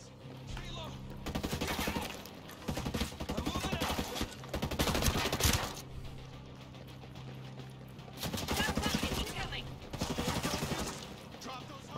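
Gunfire in the video game Ghost Recon Breakpoint arrives as several sustained bursts of rapid automatic shots, loud and close, separated by brief pauses, with a low game soundtrack running underneath.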